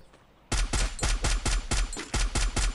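Rapid automatic gunfire in the Free Fire video game, a sudden burst of about nine loud, evenly spaced shots after a quiet start, with no voices over it.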